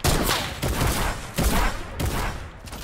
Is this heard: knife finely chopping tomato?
no